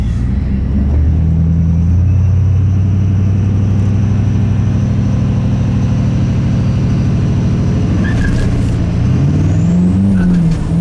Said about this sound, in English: I did a four-wheel drive burnout.